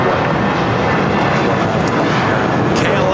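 At LAX, a Condor airliner taxis and turns, heard as a loud, constant broadband jet roar that stays steady throughout with no clear change in pitch.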